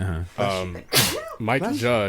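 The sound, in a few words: sneeze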